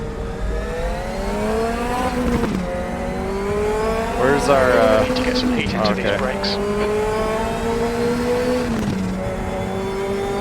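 A Group 5 race car in the RaceRoom racing game laps Bathurst, its engine note loud and sustained with rising and falling revs through the gears, while someone talks over it.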